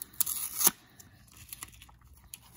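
A no-scissors pull-off package being torn open: a loud, sharp rip near the start, then quieter rustles and small crinkles, close and heard alone.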